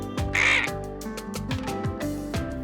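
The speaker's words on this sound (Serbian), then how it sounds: "lešinar" A vulture calls with a harsh rasping screech followed by a run of short guttural croaks and grunts, close and alone.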